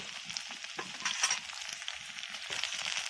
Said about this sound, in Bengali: এবারে আমি আদা রসুন বাটাটা দিয়ে দিচ্ছি